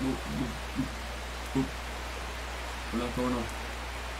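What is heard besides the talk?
rain in the video game Strange Horticulture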